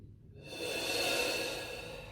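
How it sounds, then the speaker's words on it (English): Deep, slow breathing during a towel-assisted breathing exercise: one long, full inhale swelling steadily and then easing off, close and clear with no talk over it. "2 more big generous breaths like this"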